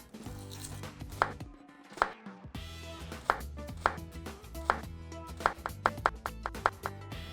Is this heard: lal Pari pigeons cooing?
no